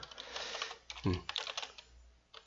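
A few light clicks of keys on a computer keyboard, including a press of the Esc key, soft and close, while someone talks over them.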